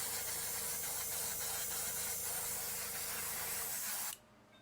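An airbrush driven by a compressor sprays hobby paint in a steady, close hiss that cuts off abruptly near the end and leaves quiet behind it.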